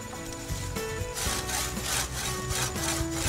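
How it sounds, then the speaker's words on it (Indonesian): A hand saw cuts through a fruit tree branch to separate an air layer from the parent plant, making steady back-and-forth rasping strokes close by with no talking. "Kita gergaji aja untuk pemisahan cangkok dari induknya kira-kira 5 cm dari sayatan bagian bawah."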